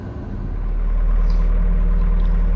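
A Bobcat engine runs at idle, a steady low rumble that swells slightly at first and then holds an even, close drone, with no one speaking.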